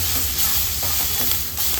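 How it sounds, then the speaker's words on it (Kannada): Mutton paya masala fries in a pan for goat leg soup, giving a steady close sizzle and hiss with faint stirring scrapes. "ಈ ರೀತಿಯಲ್ಲಿ ಫ್ರೈ ಆದರೆ ಸಾಕು."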